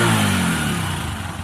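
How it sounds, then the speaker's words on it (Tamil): A repaired motorcycle engine revs close up, a steady rising mechanical drone with engine harmonics that slowly sink as the revs fall away over a second and a half. "ரேஸ் பண்ணுறோம் பாருங்கள், அப்படியே கரெக்டாக இருக்கும்."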